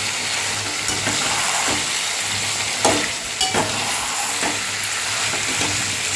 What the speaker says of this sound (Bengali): আমি ভেজে রাখা আলু দিয়ে দিচ্ছি, এটার সঙ্গে কষিয়ে নেব।